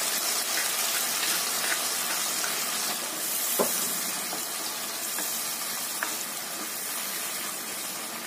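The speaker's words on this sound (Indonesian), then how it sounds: "Tumis sampai bumbunya matang." Ground spices sizzle and fry in a hot pan, a steady soft crackle with occasional small pops and stirring clinks throughout.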